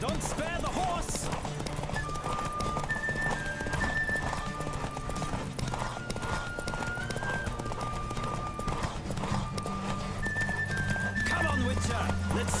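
Rapid hoofbeats of a racehorse at full gallop in The Witcher 3, a continuous driving rhythm mixed with whinnies, over sustained music and background noise.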